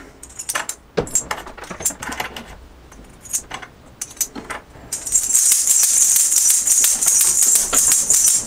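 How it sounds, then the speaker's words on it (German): A homemade shaker of bottle caps threaded onto a nail, with scattered metallic clicks and jingles at first, then a continuous bright rattle as it is shaken steadily. "dann könnt ihr die Kronkorken mal auf euren Nagel auffädeln und gucken"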